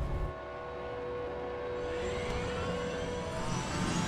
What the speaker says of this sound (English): From the second you get in the helicopter and you hear it fire up